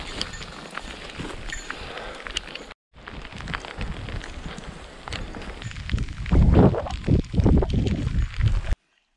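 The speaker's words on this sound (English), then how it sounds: "after a nice break from it for most of the morning, it is raining again" Rain falling in the Yellowstone wilderness, a steady patter with scattered louder drops and some rustling and thumps close by, with a brief gap of silence.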